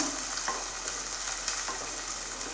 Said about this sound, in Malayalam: അപ്പോൾ ഇതൊന്ന് നമുക്ക് നന്നായി ഒന്ന് വഴറ്റിയെടുക്കാം.